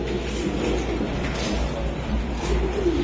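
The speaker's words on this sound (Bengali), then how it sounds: "এটা সিলা কবুতর ভাই" A red Sila pigeon coos softly in a low, murmuring rolling tone, set against a steady background hum.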